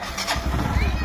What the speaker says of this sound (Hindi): ये हो रही है बाइक स्टार्ट।